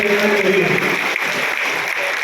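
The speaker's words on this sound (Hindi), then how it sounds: "एक बार जोरदार अपने लिए तालियां बजाकर स्वागत करना।" Applause from a large gathering of sanitation workers at an honouring ceremony in Jabalpur, a dense, even clapping that holds steady across the moment, with a faint voice trace early on.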